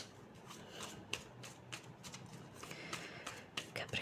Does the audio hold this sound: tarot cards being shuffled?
yes